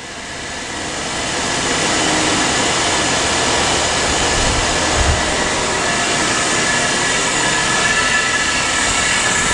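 A semi-tool spin rinse dryer system runs with a steady, loud broadband whir and hiss, swelling slightly over the first two seconds and then holding constant, with no speech.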